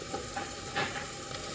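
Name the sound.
stirring crushed garlic into soup pot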